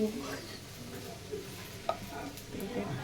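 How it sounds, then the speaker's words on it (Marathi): Sliced okra (bhindi) dry-roasting in a pan in a home kitchen, giving a steady low sizzle with occasional stirring scrapes and one sharp clink, continuous throughout at moderate level. "इथे बघा भेंडी भाजायला ठेवली मी"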